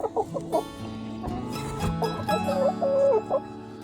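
Backyard homestead chickens cluck and squawk in a rapid, close run of calls while eggs are gathered from them, with a low rumble beneath.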